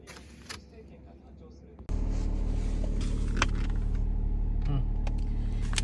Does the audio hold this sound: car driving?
yes